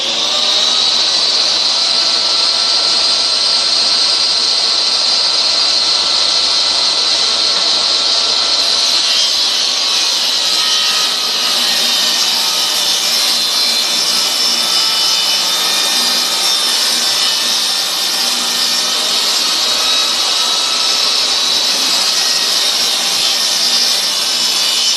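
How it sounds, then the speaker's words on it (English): A table saw blade rips a very thin wood strip against a fence jig, giving a loud, continuous high whine and hiss for the whole stretch, with no voices. "allowing us to cut a very small piece just to the outside of the blade"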